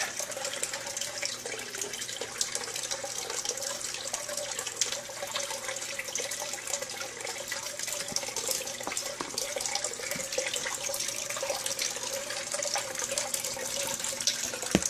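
A long, steady run of splashing and pouring water, like liquid streaming into a sink, constant in level with faint drips, no talking.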